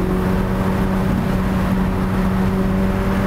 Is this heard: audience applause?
no